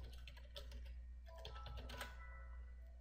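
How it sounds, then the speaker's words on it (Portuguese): Someone types a domain name on a computer keyboard while setting up Windows Server 2008 R2 and Windows 7: a quick burst of close, light key clicks over a low steady hum, trailing off toward the end. "clique em domínio e digita o nome do domínio aí"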